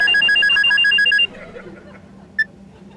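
A telephone rings with a bright repeating electronic trill for just over a second, loud and close, then cuts off, leaving quiet room sound in a comedy series scene.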